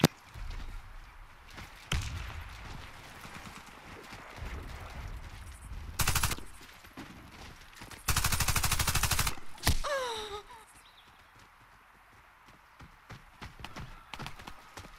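Tavor CTAR-21 rifle firing in the online shooter game Warface, several sharp bursts of automatic gunfire, with two long loud bursts near the middle, between quieter in-game footsteps and effects.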